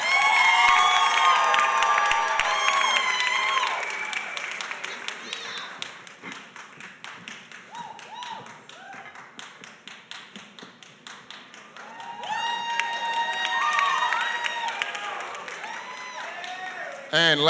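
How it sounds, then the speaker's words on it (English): An audience at an Atlanta film premiere panel cheers, whoops and claps for a guest, with loud bursts of shouting at the start and again near the end, and scattered clapping between them. "So if you all could please give a round of applause for Chanel Lauren"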